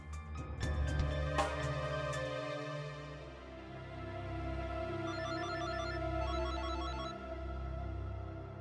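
An electronic ringtone plays a repeating melodic pattern, steady and moderately loud, after a few sharp clicks at the start.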